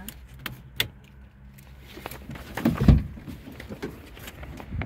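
Car keys jangle in a few short bursts near a new Dacia Spring 65 electric car, with a louder clunk partway through that sounds like a door or car panel.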